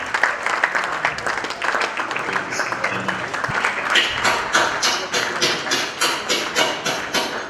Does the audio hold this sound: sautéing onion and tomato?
no